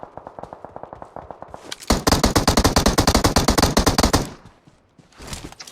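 In the video game PUBG Mobile, a steady string of loud gunshots builds into a dense, rapid automatic burst lasting about two seconds, then stops briefly before a few more shots ring out.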